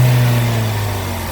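Engine of a car under injector diagnosis revving as it accelerates, a strong steady low drone with rising tones, close and loud throughout, no talk.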